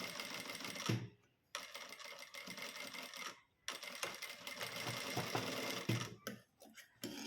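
Sewing machine stitching the fabric of an old blouse, rapid steady mechanical clatter in bursts of one to two seconds separated by short pauses, close and alone.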